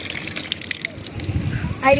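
Irrigation water gushes steadily near a hillside temple, a continuous rushing wash with people talking over it.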